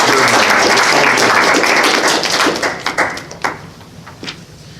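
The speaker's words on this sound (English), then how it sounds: "Just in case you didn't hear over the clapping" Audience applause at a League of Utah Writers reading event, dense clapping that thins into a few scattered claps before fading out.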